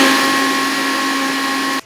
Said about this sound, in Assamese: এতিয়া তিলখিনি ধুনীয়াকৈ মিক্সিত ভৰাই দিছোঁ আৰু পিচি ল'ম